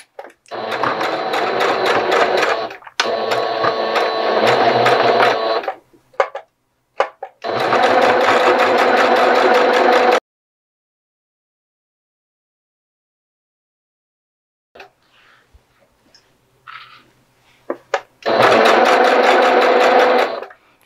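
A sewing machine stitches back and forth on a face mask strap in several loud, close runs of rapid needle clatter, separated by short pauses and one long silence.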